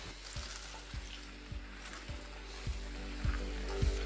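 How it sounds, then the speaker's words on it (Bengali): Winter vegetables including potato and pumpkin fry in oil for a mixed vegetable curry, giving a steady close sizzle with soft periodic thumps of stirring at roughly even intervals throughout, no voices. "সবজিগুলোকে তেলের মধ্যে ভালো করে ভেজে নিন"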